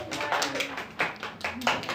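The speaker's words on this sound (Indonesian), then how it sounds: "Beri tepuk tangan, ah." Fifth-grade elementary pupils in a classroom give a short round of uneven, scattered clapping, with some voices mixed in.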